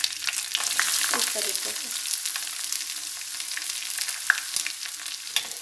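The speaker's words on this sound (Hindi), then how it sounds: "ये जो मैंने प्याज काटा है, एक आधा प्याज मैंने इसको पतला पतला इस तरीके से चॉप कर रखा है, वो अब मैं इसमें डाल दूँगी" Half an onion, sliced thin, dropped into hot oil in a pan and sizzling loudly and steadily throughout, with a few stirring scrapes and a brief spoken phrase near the start.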